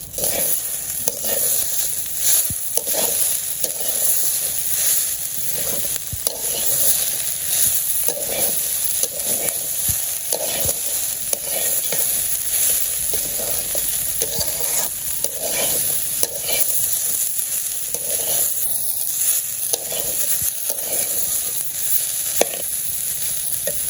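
Potatoes and bitter gourd frying in a pan, a steady bright sizzle throughout with rhythmic stirring scrapes recurring every second or so, close and moderately loud, with no speech.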